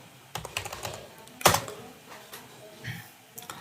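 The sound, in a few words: typing on a computer keyboard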